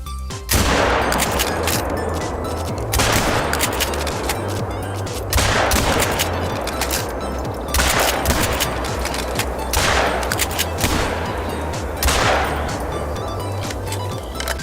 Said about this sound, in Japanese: セミオートマチックやリボルバーは、エイムしたまま連射できます